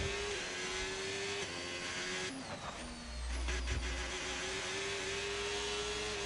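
An F1 25 racing car engine in a video game during the final lap of the Singapore race, a steady mid-pitched whine with some shifts in pitch, alone and without talk.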